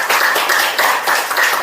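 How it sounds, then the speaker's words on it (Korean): A church congregation clapping together during a Sunday worship service, loud rhythmic claps in a regular beat over a short stretch. "우리 서로 박수 한번"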